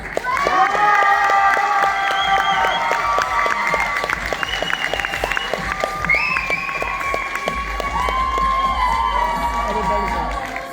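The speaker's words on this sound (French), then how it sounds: "applaudissements." Audience at a Paris CEO tour event applauding and cheering, with steady clapping and scattered whoops heard under loud, tonal background music, continuing for about ten seconds.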